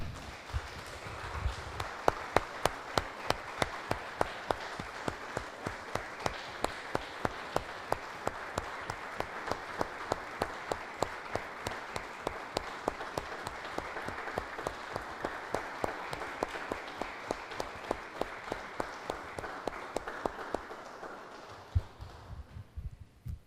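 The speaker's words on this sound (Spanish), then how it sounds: "Le damos un aplauso, hermanos, al Señor." A church congregation applauds for nearly twenty seconds, the clapping falling into a steady rhythmic beat that fades out at the end.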